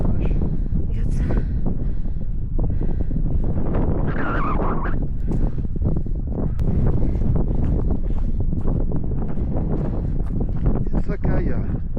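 Strong wind buffets the microphone on a wild Newfoundland coast in loud, continuous low rumbling gusts, with people talking over it.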